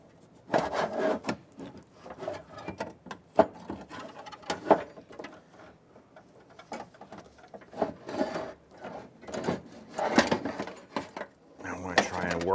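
Window regulator being worked up and out of a 1999-2004 Jeep Grand Cherokee rear door, with close, irregular rubbing, scraping and clunks of metal and plastic against the door panel, some quieter gaps between.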